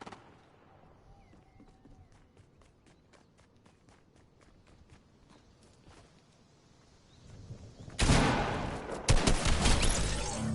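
Gunfire from a bot in Fortnite, first a long series of quick, evenly spaced footstep-like taps at moderate distance, then a sudden loud burst of rapid, close shots that continues to the end.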